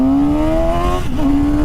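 A motorcycle engine revs hard, its pitch climbing steadily, then dipping briefly with a wobble before settling back to a high, strong whine; close and loud throughout with no one talking.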